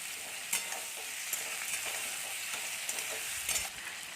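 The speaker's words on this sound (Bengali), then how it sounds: "এবার আমরা এটাকে একটু হালকা করে ভাজা দিয়ে নেবো" Quiet, steady sizzling of capsicum and vegetables frying lightly in a pan with a little salt, with occasional sharp scrapes and clicks of stirring.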